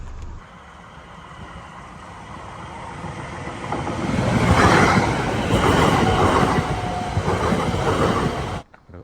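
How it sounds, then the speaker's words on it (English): A train rumbles past near a river lock on the River Lee toward Ware, England, swelling from a low distant roar to a loud close rush with clattering wheels before cutting off abruptly. "but there's a train"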